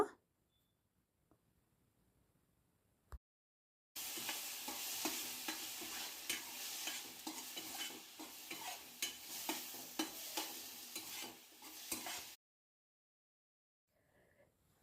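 Onions, tomatoes and ginger-garlic paste sizzle and fry steadily in a pan with repeated scraping strokes of stirring, loud and close, starting after a few seconds of near silence and ending abruptly.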